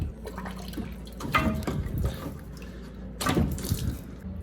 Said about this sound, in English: Some of the water came out of my hot water supply.